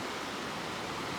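The Fraser River rushes steadily near the Mount Robson visitor centre, a broad, even wash of flowing water with no voices, heard alone for a moment.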